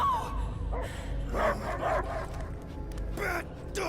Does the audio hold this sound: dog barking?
yes